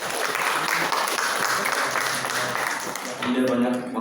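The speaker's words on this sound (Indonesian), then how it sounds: "Mungkin boleh tepuk tangan buat Ustaz Ahmad." An audience at an Indonesian religious talk on communication techniques breaks into applause for the speaker, a steady wash of clapping with voices over it before it tapers off near the end.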